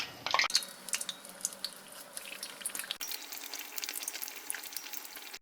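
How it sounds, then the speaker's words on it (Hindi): Bread fritter for ulta vada pav frying in oil in a pan over medium heat, a steady soft sizzle with crackling pops and occasional stirring clinks, fairly quiet. "दोनों तरफ से अच्छे से उलट पलट कर इसे गोल्डन ब्राउन होने तक फ्राई कर लेंगे"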